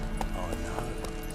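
Horse hooves clip-clop in The Witcher 3 video game, a brief, steady trot set against dense game music and ambient sound.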